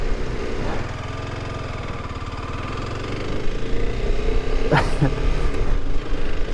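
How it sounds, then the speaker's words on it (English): A motorbike engine idles steadily in the rain in Antwerp, Belgium, a close, even low rumble that grows a little louder partway through, with a few brief sharp knocks near the end. "Oh, it's always so good to get back on the motorbike."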